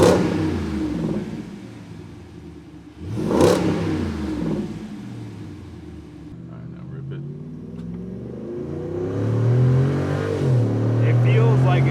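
A Jeep Wrangler 392 fitted with a MagnaFlow Street Series cat-back exhaust starts up and revs, with a deep rumble building to loud throaty revs as people talk over it.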